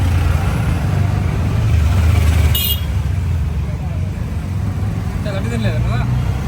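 Auto rickshaw engine droning steadily during a night ride to an ashram in Tiruvannamalai, with road and traffic noise, a brief high horn toot partway through, and some speech over it.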